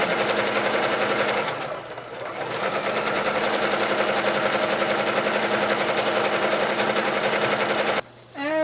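A sewing machine stitches free-motion quilting, running a very large spiral in white thread on a butterfly pillow; the motor hums steadily and close, briefly easing around the two-second mark and stopping near the end.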